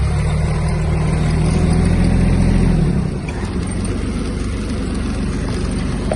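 A Kubota A-17 Japanese mini tractor engine runs loud and steady while reversing, with a heavy low drone that drops slightly in level partway through and keeps going.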